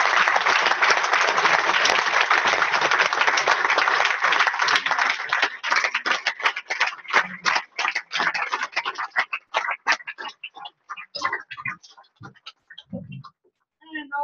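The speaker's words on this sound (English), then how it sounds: "we want to give him huge, huge national applause for his 2 million earner ring" Applause for an award winner during an online video-call gathering: dense, loud clapping that gradually thins into scattered individual claps and then trails off over about fourteen seconds.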